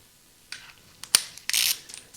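A hand ratchet clicks in short, sharp bursts as it tightens the nut on a Honda GL1500 Goldwing clutch, with several close, separate clacking strokes and quiet gaps between them.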